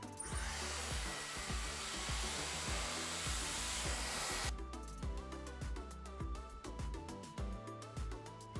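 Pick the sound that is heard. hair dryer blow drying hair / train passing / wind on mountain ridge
hair dryer blow drying hair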